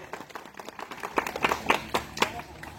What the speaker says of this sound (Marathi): पुन्हा एकदा जोरदार टाळ्या वाजवत आहेत.